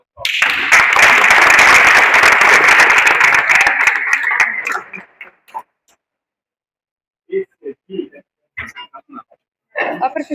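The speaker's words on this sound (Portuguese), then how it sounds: "Salve de palmas." Applause from a classroom audience at a student automation project presentation, a dense burst of clapping for about five seconds that quickly dies away, followed by scattered bits of talking.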